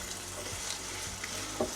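Onion fries in a mix of vegetable oil and butter, a low even sizzle with faint crackle, close and steady over a short moment, with no talking.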